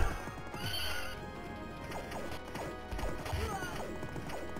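A horse whinnies amid a busy soundscape of hoofbeats and clashing impacts in the 1991 arcade game Knights of the Round, all fairly loud and continuous.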